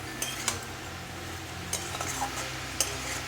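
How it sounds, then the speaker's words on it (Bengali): A spoon scraping and clinking against a pan while vegetables with chopped tomato and spices are sautéed for a Bengali parshe fish curry with cauliflower and potato, a few sharp taps over a soft, steady sizzle. "সবজিটাকে আমি ভালো করে কষিয়ে নিচ্ছি"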